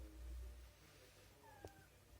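A domestic cat indoors gives a faint, short meow near the end over quiet background hum.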